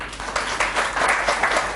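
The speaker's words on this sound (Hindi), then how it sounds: "इनके लिए ताली बजनी चाहिए" An audience at a campus talk bursts into steady applause, many hands clapping loud and close in a dense, continuous patter lasting the whole moment.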